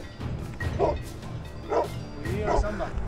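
A Pyrenean mountain sheepdog guarding a flock barks three times in sharp bursts, fairly close, with voices talking underneath.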